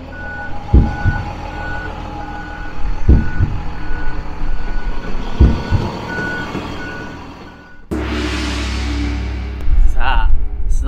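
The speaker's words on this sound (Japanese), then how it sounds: "さあ、スナップオンのバスが到着しました。" A Snap-on tool truck reverses close by with a loud, steady run of reversing beeps over its engine rumble. A sudden burst of heavy air noise follows near the end, and talk can be heard under it.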